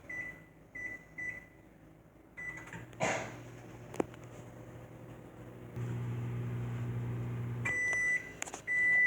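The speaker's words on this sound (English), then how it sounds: "We're going to put the microwave on for 2 minutes." A microwave oven hums steadily for two minutes with a muffin dish inside, after a few electronic beeps, with clicks and small handling noises around it; a final beep sounds near the end.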